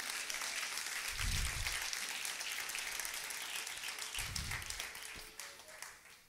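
Applause from a church congregation during a sermon, a steady wash of many hands clapping that fills the clip and fades slightly toward the end, with low thumps underneath.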